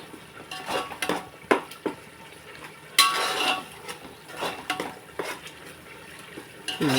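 Garlic paste and masala stirred in a frying pan, with scattered clinks of a spoon against the pan and soft sizzling beneath, plus one louder scrape partway through.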